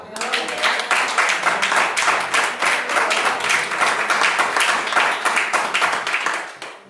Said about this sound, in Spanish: Ahora tú puedes aplaudir al Señor.